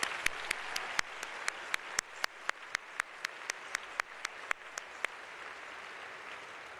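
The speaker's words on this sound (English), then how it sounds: "Please join me in thanking them again with a round of applause." Audience applause at a Martin Luther King celebration luncheon at Notre Dame: one nearby clapper beats sharp, evenly spaced claps over a softer crowd, then stops after about five seconds while faint applause lingers.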